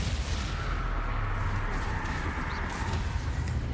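Confringo spell blasts in Hogwarts Legacy combat, a steady roar of booming, crackling explosions and rumble that runs loud and continuous throughout, with no voices over it.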